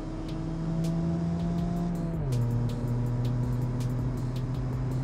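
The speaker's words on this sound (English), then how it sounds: "Lots of wheel spin." A car accelerates hard with wheel spin, its engine giving a steady drone that drops in pitch partway through as the revs shift. The sound is close and continuous, with no talking.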